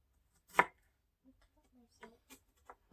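A knife slices food into thin pieces in a quiet kitchen: one sharp, loud chop, then several softer, spaced cuts.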